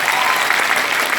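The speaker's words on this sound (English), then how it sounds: "Simon Says, clap your hands." Brief burst of dense, continuous hand clapping from a group of people playing Simon Says, loud and steady with no pauses.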